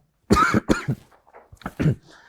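A person coughs several times in two bursts, harsh and close, with a brief pause between them and silence on either side.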